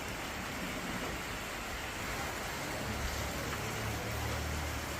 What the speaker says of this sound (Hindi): But still it's raining very heavily.